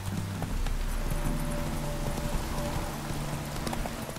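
Horse hooves clip-clop in a steady rhythm in The Witcher 3: Wild Hunt, close and clear, with a low ambient hum and no talking.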